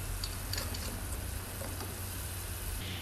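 Crabs sizzle and fry in a pot of Ecuadorian crab encocado, a steady close crackle that runs throughout with no talking.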